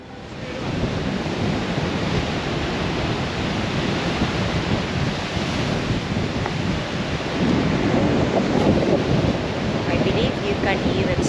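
Strong sea wind roars across the microphone on an island in the Helsinki archipelago, a loud, continuous gusty rumble with surf-like wash that holds steady for the whole stretch.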